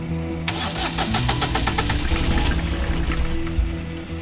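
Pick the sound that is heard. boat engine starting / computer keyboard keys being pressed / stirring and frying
boat engine starting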